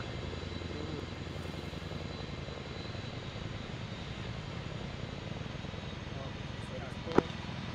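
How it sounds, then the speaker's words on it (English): A Chinook helicopter gives a steady, droning engine and rotor roar that holds at a constant, fairly close level throughout a military-style gaming operation, with voices talking over it. "It's the Chinook in front of us,"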